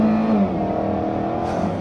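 A 2016 Chevy Malibu turbo sedan accelerates briefly from inside the cabin, a loud steady engine drone rising slightly in pitch over under two seconds, with no talking.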